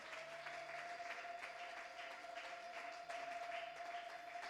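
Church congregation applauding during a French-language Bible study gathering, a steady, dense wash of clapping from many hands filling the room, with a sustained tonal hum running underneath.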